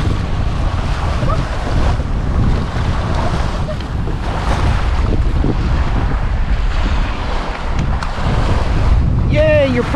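Ocean waves washing onto a private beach under heavy wind buffeting, a loud continuous roar with surges of surf, while a voice briefly speaks near the end.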